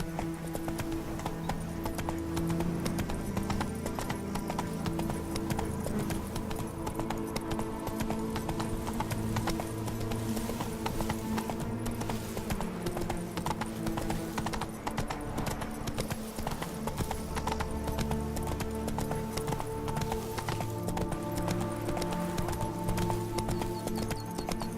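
Horse hooves clip-clopping steadily while riding in the video game The Witcher 3: Blood and Wine, a continuous rhythmic trot under game music throughout, close and prominent.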